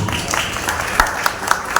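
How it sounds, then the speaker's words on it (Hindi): An audience at a spiritual discourse claps in a loose burst, a few sharper individual claps standing out at the end. "अभी ताली बज रही है"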